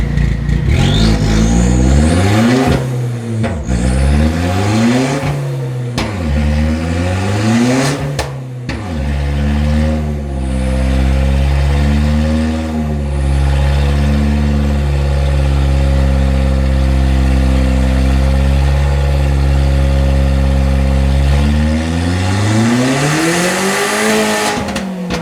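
A BNR-built Sonic car fitted with a new intake manifold and throttle body spacers roars on a dyno. Several loud rising revs climb and fall, then a long sustained high-rpm pull builds and swells toward the end, with no speech.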